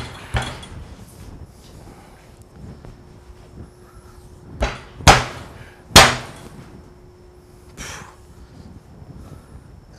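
A hammer with a handle combining wood and steel strikes several times, with two sharp, loud impacts close together near the middle and a few softer knocks around them, all close by in a quiet indoor room.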